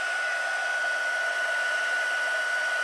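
A heat gun blows steadily and loudly at close range while drying and flattening gel press crafting paper, a continuous whooshing roar with a fixed whine through it, no voices present.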